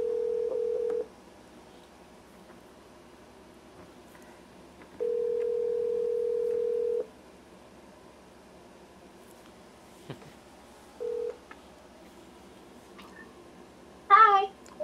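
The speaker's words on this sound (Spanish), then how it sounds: "Vamos a hacer una llamadita porque también tiene micrófono" Phone call tones played through an LG XBOOM Go portable speaker: a steady ringback tone sounds in long beeps separated by pauses, with a short beep after them and a brief burst of voice at the very end.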